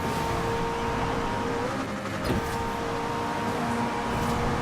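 A car engine roars steadily at full throttle in the Forza Horizon 4 racing game, a loud continuous drone that holds without letting up.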